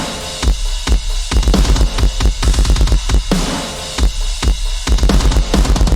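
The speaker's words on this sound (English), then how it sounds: "gives you that like machine gun distortion basically" Processed drum samples run through an Argent compressor with a harsh machine-gun distortion effect, giving loud, dense rhythmic hits in rapid bursts with short gaps and no voices.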